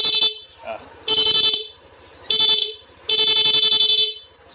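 MDL loud horn fitted to a Yamaha Aerox 155 scooter, sounding in rapid bursts: four loud, bright electronic blasts of uneven length separated by short gaps, close by, with a faint voice between them.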